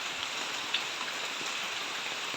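Typhoon rain pours steadily in a loud, even hiss that fills the whole stretch, close and unbroken, with a faint patter of drops.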